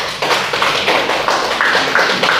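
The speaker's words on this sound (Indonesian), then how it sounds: "tepuk tangan untuk kelompok 2" Classroom students clapping their hands for a group, a close, loud burst of rapid uneven claps repeating in several quick rounds with brief pauses between them.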